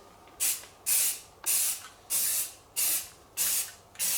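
Rhythmic bursts of a spray gun laying down a first coat of paint on a Toyota 86, seven short hissing blasts in steady succession with brief pauses between, close and fairly loud.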